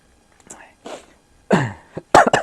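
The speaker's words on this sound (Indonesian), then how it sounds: "Saya batuk." A man coughs a few times in short, close bursts, mixed with breathy throat sounds in a quiet room.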